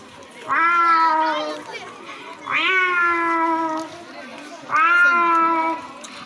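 A child imitates cats meowing, giving three drawn-out, nasal meows in a close, loud voice with short pauses between them.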